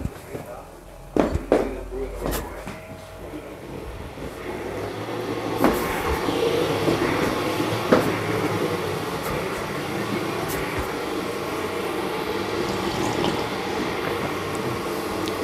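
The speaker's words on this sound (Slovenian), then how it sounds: "Malo ćemo podgrijat vodicu." Water heats in a kettle for coffee, starting with a few sharp clinks and knocks before a steady rushing hiss builds and carries on at a constant level, while people talk nearby.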